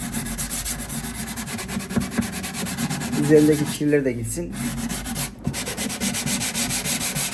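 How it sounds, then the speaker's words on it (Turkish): Rhythmic, close scratchy rubbing of 220-grit sandpaper across the wooden lid of an oud under repair, back-and-forth strokes; a person briefly speaks partway through. "Şu an elimde 220 numara zımparamız var. Onunla ben uzun tüm kapağını zımparalayacağım."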